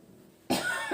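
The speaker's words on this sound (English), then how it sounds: "Sorry, I had to cough." A single sharp cough, close and loud, breaks a brief quiet moment.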